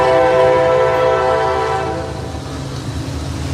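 A GE ES44 diesel locomotive passes close by, its horn blaring loud and steady with layered harmonic tones for nearly two seconds before cutting off, leaving the rumble of the moving train and rolling railcars.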